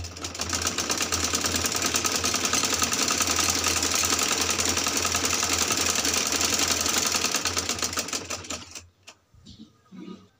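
A sewing machine runs steadily, stitching along a folded-down fabric hem on a trouser cuff, with a dense rapid mechanical whir that holds for about nine seconds before stopping, followed by a few faint handling sounds.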